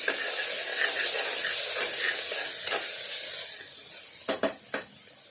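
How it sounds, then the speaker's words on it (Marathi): Ginger, garlic and chili paste sizzles steadily with onions in a hot pan, a close, continuous frying hiss that eases toward the end, where a few sharp stirring scrapes break through. "आता आपण हे पण छान ह्याच्यात भाजून घेऊया"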